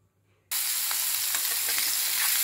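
Fish pieces frying lightly in a thin layer of oil in a wok, a steady bright sizzle that starts abruptly and continues loud and close with small crackles, no talking.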